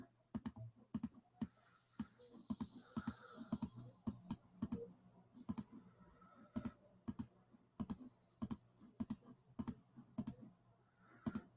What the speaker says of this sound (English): That's why you're hearing clicking, guys.